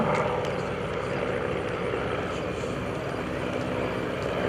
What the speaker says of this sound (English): Lead airplane is the Boeing Stearman.